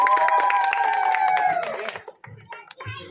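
A crowd at an Odia Kosli poetry gathering claps and cheers. The loud, dense applause mixed with high ululating voices fades after about two seconds into scattered sounds.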